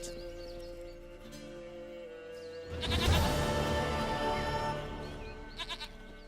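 Goat bleating in The Witcher video game, a loud burst of repeated bleats in the middle over steady game music and ambience, with a few shorter bleats near the end.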